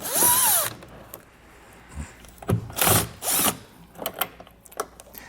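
A power tool backs out two 8mm screws from a vehicle taillight during a diode wiring kit install, short whirring bursts separated by pauses and small clicks, close by with no talk.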